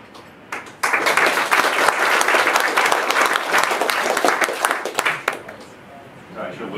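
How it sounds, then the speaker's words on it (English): An audience at a tech conference session bursts into applause, a dense, sustained wash of clapping that starts abruptly, holds steady for several seconds, then thins out near the end. "I should have waited longer for the applause"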